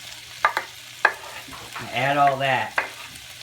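Mushrooms, tomatoes and green onions are stirred as they fry in a pan for beef and broccoli, a loud sizzle swelling midway between spoon knocks, with a few spoken words at the start.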